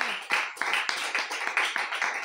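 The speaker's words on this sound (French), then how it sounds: "Tu peux applaudir pour lui." A church congregation applauds in a continuous, dense burst of clapping, fairly close and loud, with no pauses across the stretch.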